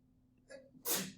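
A single loud human sneeze, preceded by a faint intake of breath, in a quiet indoor room with a low steady hum underneath; no talking.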